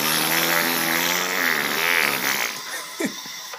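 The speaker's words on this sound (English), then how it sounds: "You can even hear the toilet." A toilet sound effect in the Angry Poo mobile game, a loud continuous buzzing, churning rush that fades into quieter game noises with a short blip near the end.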